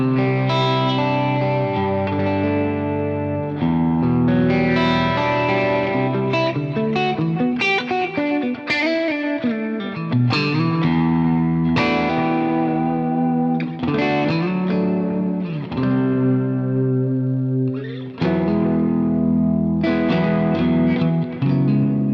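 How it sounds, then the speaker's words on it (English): Electric guitar played through a delay plugin and Lexicon reverb, a sustained run of chords and notes with echoing repeats and a lush wet tail, steady and loud with no talking. "So what we can do is also bring in that Lexicon reverb with that delay."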